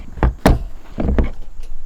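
A car door thumps shut in a workshop during work on an LS-swapped R32 GTR: a few close, loud slamming knocks in quick succession, with no talk over them.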